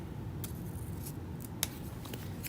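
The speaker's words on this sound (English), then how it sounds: "I am going to use my fabric scissors" Fabric scissors cut through cloth for a Nordic-pattern pillow, giving a few quiet, brief snips with one sharper click near the middle over steady low room noise.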